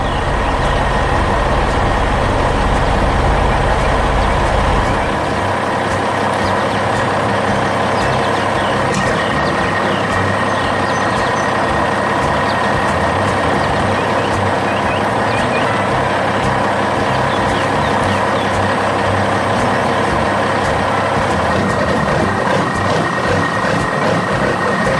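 Animated dump truck on a construction site, its engine rumbling loud and close and continuing at a steady idle, while a repeated reversing beep sounds in a regular rhythm throughout, with no talk.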